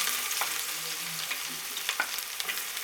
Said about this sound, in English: So I'm going to fry my onions